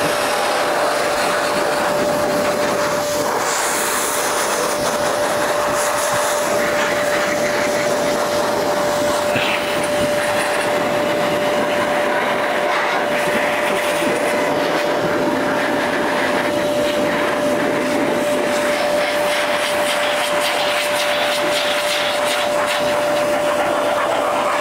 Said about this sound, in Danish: Og så blæser jeg simpelthen bare motorcyklen ned fra toppen af og ned.